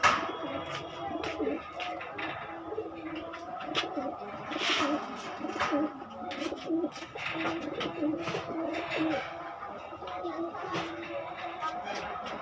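Pigeons coo steadily through a busy Khulna Gollamari market selling Pakistani pigeons, soft repeated calls blending with background chatter and someone talking over them.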